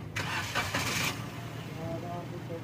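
A car's engine is started with the ignition: a short cranking burst catches and settles into a steady nearby idle.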